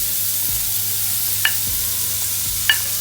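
Cabbage and peppers stir-fried for vegetable noodles, a quiet sizzling hiss with a few sharp utensil clinks against the pan and some low thumps.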